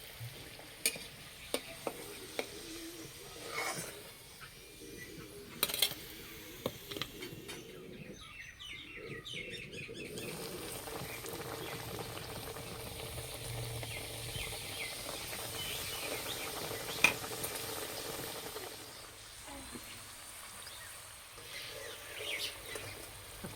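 A cabbage-stuffed paratha frying in a pan, a soft steady sizzle broken by scattered spatula taps and scrapes, with faint birdsong in the background.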